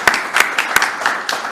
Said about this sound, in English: I'm going to ask everybody to give Paul and the group a round of applause